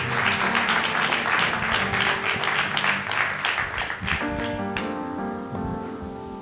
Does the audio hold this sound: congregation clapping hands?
yes